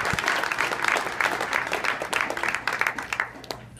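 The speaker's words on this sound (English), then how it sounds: "let's give it a round of applause for all of our staff members" An audience in a school gathering claps for the staff members, a steady, fairly loud stretch of many hands with crisp individual claps standing out throughout.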